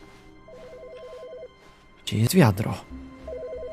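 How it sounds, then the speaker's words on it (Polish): A telephone rings in the video game The Stanley Parable: a repeated electronic trilling ring in two separate bursts, with someone speaking loudly in between. "Telefon?"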